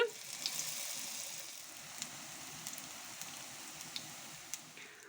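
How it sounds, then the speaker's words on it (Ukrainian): Potato pancakes sizzle in hot oil in a frying pan, a soft continuous crackle with occasional small pops, close by and fairly quiet. "зараз будемо відправляти оладочки на сковорідку"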